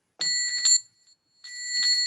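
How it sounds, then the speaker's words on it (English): Small bell at a Unitarian Universalist Sunday service, two clear bright rings each sustaining briefly, alone without talk. "let's follow the sound of the bell for a moment of silence"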